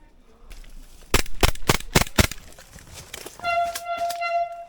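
Rapid, sharp cracks from an airsoft gas blowback rifle, a Noveske N4, ring out close by in a tight burst of about five shots, followed by a faint rustle and a steady tonal beep.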